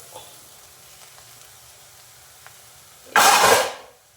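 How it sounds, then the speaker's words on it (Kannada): Chopped tomato is tipped into a hot pan of bitter gourd curry and sets off a sudden, loud burst of sizzling that lasts about a second before quieting, after a quiet stretch with faint kitchen noise. "We are pouring the tomato."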